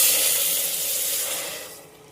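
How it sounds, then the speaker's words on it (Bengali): Water is poured into a pan of spiced mixture with turmeric, chilli, cumin and raisins, a loud close rushing hiss that slowly tapers off over two seconds. "জল দিয়ে দিলাম"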